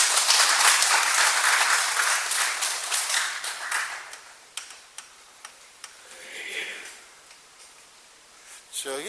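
Applause from an audience at a public lecture in Seoul, loud at first with many hands clapping, then thinning to a few scattered claps and ending with a louder burst.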